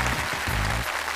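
Brief burst of studio audience applause on a Chinese television job-seeking show, dense steady clapping filling the whole moment, loud and close.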